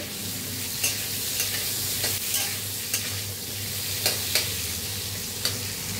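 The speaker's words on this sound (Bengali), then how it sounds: "এবার আলুটা আমি ভেজে নেবো একটুখানি" Potatoes fry in a pan with a loud, continuous sizzle, while a utensil scrapes and taps against the pan every second or so.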